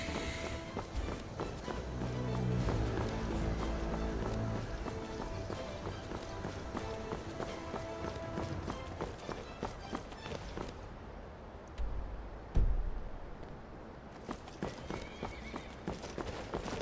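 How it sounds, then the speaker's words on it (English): Galloping horse hooves in the Skyrim video game, a rapid rhythmic clip-clop that drums on for many seconds with a brief whinny, then thins to scattered hoof taps near the end. "Okay, I hear a horse."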